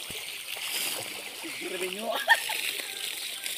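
Water splashing as someone bathes in a river in Kalimantan, with sloshing and splatter close by at night, and someone talking over it.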